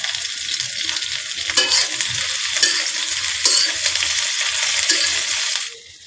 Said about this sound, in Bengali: পেঁয়াজ রসুন মরিচটারে খুব সুন্দরভাবে টালতে হইবে। এখন আমি এইটার ভিতরে লাউ শাকগুলো দিয়ে দিতেছি।